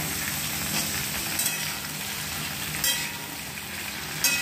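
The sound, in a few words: ridge gourd and stems frying in a pan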